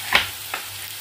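Cumin seeds tipped into a pan of onions fried until translucent for dal makhani, giving two short bright bursts of sizzle over a steady low frying hiss, close and alone.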